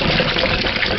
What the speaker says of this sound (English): rinse these off. Make sure they are clean